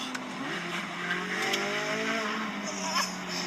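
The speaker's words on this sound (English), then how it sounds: "it's accelerating, yeah, faster than I would expect something with this much horsepower to accelerate" A 2023 Chevrolet Corvette C8 Z06 pulls hard in first gear, its engine note rising steadily and close by, with a brief tire squeal near the start and no talking over it.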